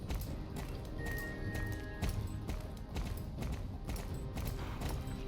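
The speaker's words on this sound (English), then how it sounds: "my horse is too tired for me to be able to get her to move faster." Horse hooves clip-clopping at a run in the Star Stable video game, a steady repeated rhythm of thuds with a faint whinny, set against busy game background sound.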